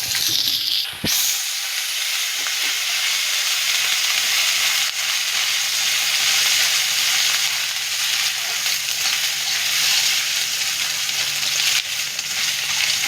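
Crushed ginger frying in hot oil for mung dal, a steady close sizzle and hiss that continues evenly after a brief clatter at the start.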